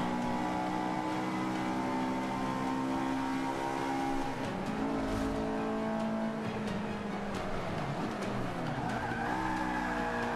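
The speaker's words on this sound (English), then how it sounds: "Nice drift, sweet drift" A car drifting in Forza 5, its engine droning high while the tires squeal and skid continuously, loud and close with no talking.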